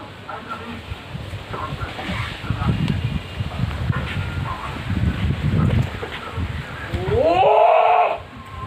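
Haryana breed buck goats on a farm give a loud, rising bleat near the end, following a stretch of speech mixed with rustling and animal noise. Someone talks over the animals for most of the clip.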